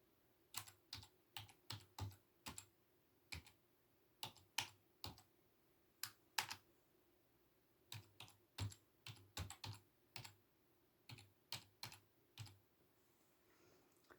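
Someone types on a computer keyboard to sign in to an account, with quiet, close, irregular bursts of key clicks arriving in quick clusters with short pauses between them.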